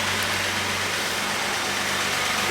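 An old Kubota engine idles steadily after a timing adjustment with the star wheel, a close, even low drone with a constant broadband hiss and no voices.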